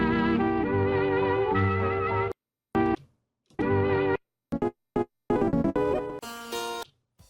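A bright melody played on a sound font sampled from the EarthBound game plays in short phrases, broken by abrupt silences and choppy stabs of tone; loud and alone, no voices.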